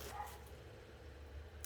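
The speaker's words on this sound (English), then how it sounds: "Constantly bark and bark and bark" Neighbor's dogs barking in the distance, a couple of faint short yaps over steady background hum with no talking.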